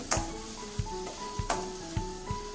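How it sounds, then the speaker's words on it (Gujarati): Onions sautéing in a pan for a masala dosa style potato filling, a soft steady sizzle broken by several sharp stirring scrapes and knocks at an uneven pace, close and fairly quiet. "ડુંગળીને આપણે સંતળાવા દઈએ"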